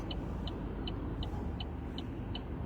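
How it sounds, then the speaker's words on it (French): Dense road traffic rumbles continuously with a broad low drone of many passing cars, while a faint, regular high ticking repeats about every third of a second. "beaucoup de voitures"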